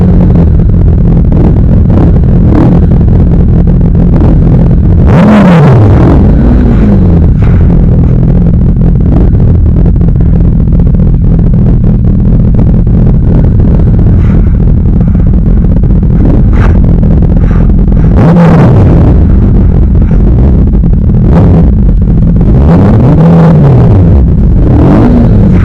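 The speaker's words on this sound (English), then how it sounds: "Dave decides to rev his bike" A motorcycle engine revs on a road ride with other bikers, producing a loud, continuous rumble buffeted by wind, with sharp rising and falling rev surges around a third of the way through and again near the end.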